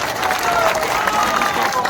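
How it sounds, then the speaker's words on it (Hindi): Political rally audience clapping in response to a call for louder applause, a dense continuous patter of many hands at close range, with speech mixed in. "जोर से बजाइए ताली।"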